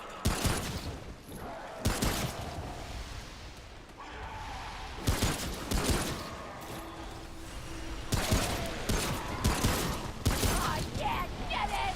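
Pump shotgun blasts in a video game, about five or six heavy booming shots spaced a couple of seconds apart, loud and close, with mechanical clacks and faint background game sounds between them.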